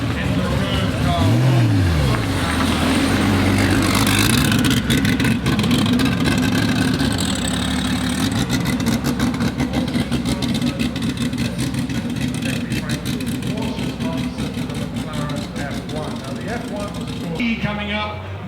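A classic car engine rumbles past at a concours d'elegance parade by a lakeside villa, steady and loud throughout, with a brief rising swell early on, under constant crowd chatter and commentary.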